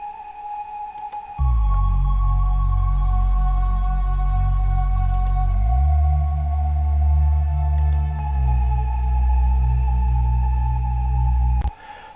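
Sustained synth pad in a future garage track with deep low tones and a steady high drone, shifting chords slowly under heavy reverb before cutting off.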